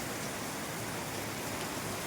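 Heavy rain pours down steadily on an outdoor cricket game, a dense, even hiss of falling water with no voices, continuous and close throughout.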